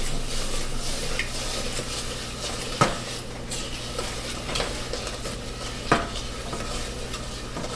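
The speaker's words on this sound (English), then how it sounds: "Our evaporated milk, our brown sugar, and we're going to stir this together." A spoon stirs evaporated milk and brown sugar in a pan for pecan praline topping, giving a steady scraping swirl with a soft sizzle and two sharp clinks against the pan, close and alone.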